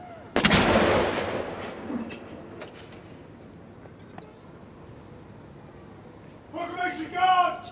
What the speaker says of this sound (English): Now for a gun salute here in the grounds of Cardiff Castle, fired by the 104 Regiment Royal Artillery.